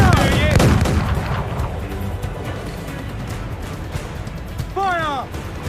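Ship cannons in the pirate video game Assassin's Creed Black Flag fire in heavy booming volleys, with the strongest blast near the start. Game voices and shouting run throughout.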